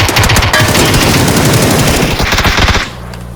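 Loud, sustained machine gun fire in a video game match, a continuous rattle of rapid shots that cuts off abruptly near the end.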